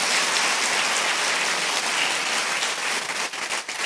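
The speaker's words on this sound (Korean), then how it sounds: "다시 한번 뜨거운 박수 부탁드리겠습니다" Loud, close applause from a church congregation at a morning prayer service, a thick sustained patter of clapping that thins and breaks up toward the end.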